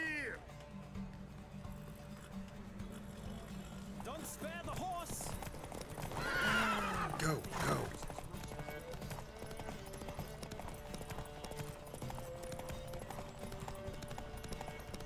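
Horses in a race in The Witcher 3: rapid clip-clop hoofbeats run throughout, with a loud whinny partway through, mixed under game music and ambient sound.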